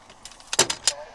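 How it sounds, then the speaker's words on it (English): A battery box dropped onto the floor of a pickup truck bed, giving a short burst of clattering thumps with a sharp bang in the middle and a smaller knock after it, close and fairly loud. "That's me dropping it on the floor of the bed of the pickup truck."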